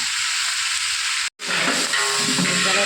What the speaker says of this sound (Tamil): காஞ்சி வச்சு கடுகு சின்ன ஜீரகம் வெந்தயம் போட்டு தாளிக்கிறாங்க